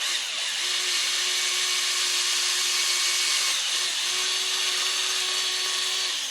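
A power drill whirs steadily for several seconds, drilling into a wooden stick, a continuous high mechanical whine with a slight dip in pitch midway, close and loud.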